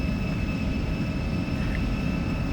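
Embraer E-Jet engines spool up as the throttle is pushed forward for takeoff, a steady, loud turbine roar with a high whine held evenly throughout.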